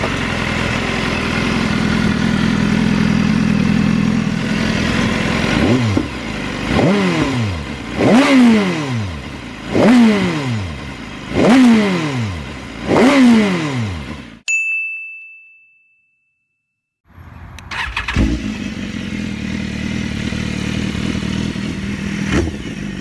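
An inline four-cylinder motorcycle with a free-flow exhaust idles loudly, then is blipped through a rhythmic series of about six sharp revs that rise and fall, cuts out briefly, and returns to a dense, rumbling idle.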